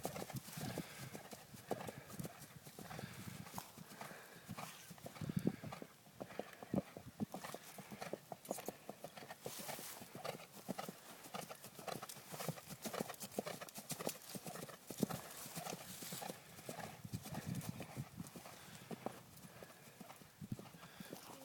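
Hooves clip-clop at a steady walking pace on hard, slippery ground, faint and somewhat distant, with occasional voices in the background.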